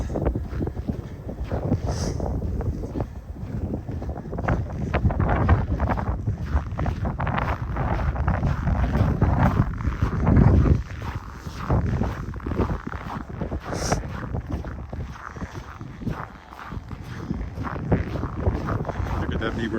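Cold winter wind with a minus 30 wind chill buffets the microphone during a Christmas Eve lakeside walk around Wascana Lake in Regina, a continuous loud roaring rumble with brief crunchy gusts throughout.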